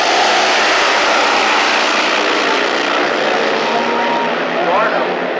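A pro stock drag racing car launches down the strip at a Las Vegas event, its engine a loud, sustained roar that fills the whole clip, with commentary running over it.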